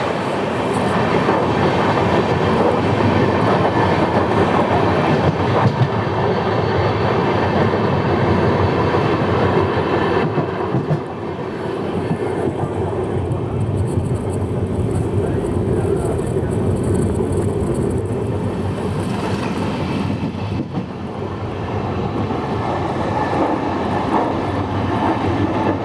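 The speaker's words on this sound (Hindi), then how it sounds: "यहाँ पे हमारे ट्रेन की क्रॉसिंग हो रही है चिकजादुर गुंटकुल पैसेंजर के साथ" Shirdi Mysuru Express crossing the Chikjajur–Guntakal passenger train: a loud, steady roar of rolling coaches and wheels on rail, continuous for the whole stretch, with a brief shift in tone midway as the other train passes.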